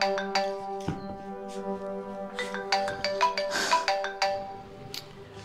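A mobile phone ringtone plays a repeating melodic tune while a call is being placed, fairly faint and steady, with no talk over it.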